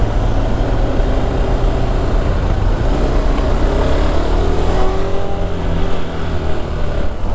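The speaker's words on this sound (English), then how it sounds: "Typical traffic in Bogota." Dense midday city traffic in Bogotá, Colombia, heard steadily and up close: a continuous rumble of car and motorcycle engines with revving and passing vehicles, no talking.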